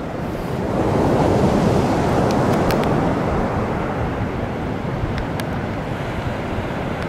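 Sea surf rolls and breaks continuously on Lyubimovka beach in January, a broad steady roar of waves mixed with wind buffeting the microphone, with no voices.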